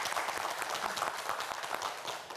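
Loud, dense applause from a studio audience at a Korean television quiz show, sustained evenly with no pause.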